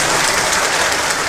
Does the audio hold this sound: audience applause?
yes